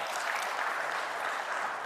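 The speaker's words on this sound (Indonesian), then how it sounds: "Saya berikan tepuk tangan pada teman-teman BAN dan LAM." Applause at an Indonesian education ministry event on national standards and accreditation: a crowd claps in a steady, even wash, moderately distant and uninterrupted.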